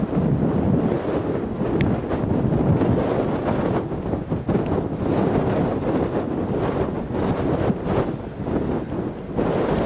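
Strong wind gusts outdoors buffet the microphone, producing a continuous loud, rumbling roar that swells and dips throughout with no clear pauses.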